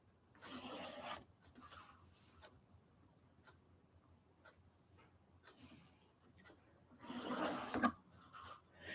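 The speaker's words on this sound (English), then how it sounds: "And then move it up to that line and draw a line." Pencil drawn along a ruler across a sheet of paper, giving two louder rasping strokes at the start and near the end, with quiet faint scratches and rubbing in between and no talking.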